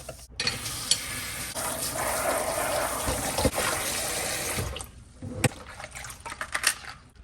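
Peppers are rinsed and scrubbed with salt under a kitchen tap. A steady gush of running water goes on for several seconds, then eases into splashes and handling noises, close and continuous with no talk.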